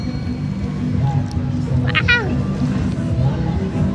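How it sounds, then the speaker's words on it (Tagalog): A cat gives a short, rising meow at an outdoor eatery serving scallops, heard once amid background chatter and crowd noise. "May pusa."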